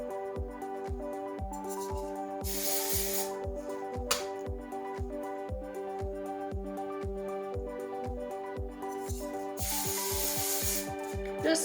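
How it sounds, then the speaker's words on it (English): Texture spray mists onto hair in two hissing bursts, one short and one longer, over steady rhythmic background music with a beat running throughout. "this texture spray doesn't spray on white"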